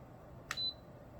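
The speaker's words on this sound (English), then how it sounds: "So 2 beeps means it's on the high mist, 1 beep means it's on the low mist" A single short electronic beep from a button press on an Anjou diffuser, faint and brief, over quiet background hiss.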